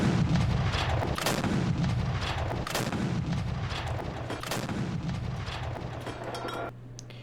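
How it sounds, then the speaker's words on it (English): Cannon artillery barrage in the World War One mod of the war game Men of War, a rapid series of loud booming shots and blasts rolling one after another, fading to a low rumble at the end. "I especially love the sound effect for these cannons as well"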